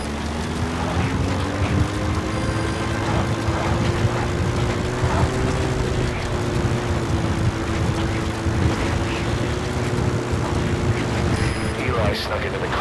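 A helicopter in Metal Gear Solid V: The Phantom Pain flies past as a steady, continuous rotor and engine drone with a dense rumbling wash. A faint tone rises slightly over it throughout.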